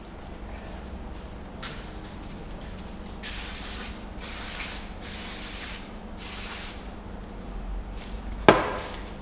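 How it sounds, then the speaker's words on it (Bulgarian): Sandpaper or a knife scuffs a rubber tyre surface lightly for grip, making several rough, broadband rasping strokes at steady intervals, close and moderately loud, with a sharp knock near the end. "Следващата идея е лекичко с шкурка или с нож да се надере гумата, за да хване."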